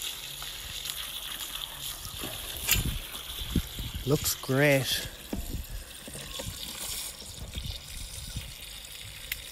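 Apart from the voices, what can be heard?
water filling a barrel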